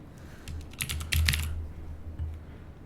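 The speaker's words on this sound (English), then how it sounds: "Oh, David's typing" Keys clatter in quick irregular bursts on a computer keyboard during a technical art workshop session, close and moderately loud, with a low background hum and no talking.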